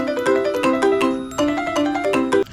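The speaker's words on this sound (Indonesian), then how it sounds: "Suara ringtone HP Sony Ericsson, tanda telepon masuk berbunyi." A melodic electronic Sony Ericsson mobile phone ringtone plays a bright tune of repeating tones for an incoming call, loud and close, lasting a couple of seconds before cutting off.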